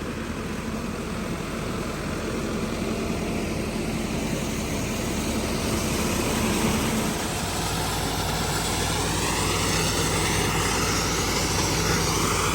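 A tractor idles at low revs while driving a maize sheller during the spring maize harvest, giving a steady, loud engine drone with dense mechanical clatter that continues unbroken throughout.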